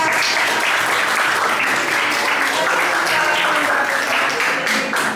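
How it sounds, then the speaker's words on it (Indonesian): Classroom applause after a student group's presentation at a school, a steady broadband patter of many hands clapping throughout, close and loud, with some voices mixed in underneath. "Beri tepuk tangan untuk Bintang"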